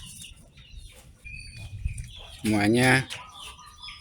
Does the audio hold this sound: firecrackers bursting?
no